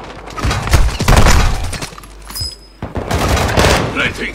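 Automatic gunfire and explosive bursts ring out in a military shooter video game, with loud rapid volleys in two stretches broken by a brief lull, under game sounds and shouted callouts.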